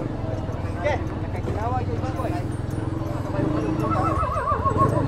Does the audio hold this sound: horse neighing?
yes